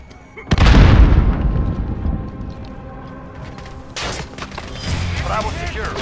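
A grenade explodes in Call of Duty Modern Warfare multiplayer, a loud close boom that decays over several seconds, followed by further rumbling battle noise.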